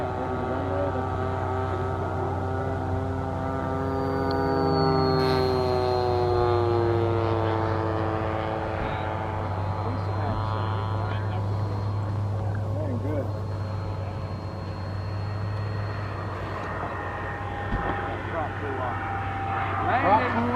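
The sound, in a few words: RC model glider target drone flying overhead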